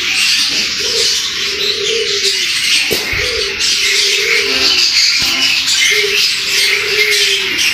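Budgerigars chirp and twitter steadily in a cage where breeding pairs sit with eggs and chicks, a dense, continuous chatter of close, high calls with brief louder squawks.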